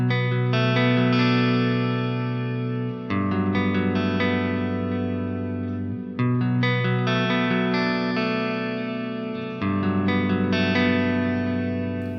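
Clean electric guitar chords through a Neural DSP SLO-100 X with compressor ring out smoothly, compressed and sustained, washed in reverb with trailing delay echoes, changing every few seconds.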